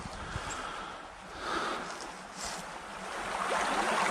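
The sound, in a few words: mountain stream flowing by a winter campsite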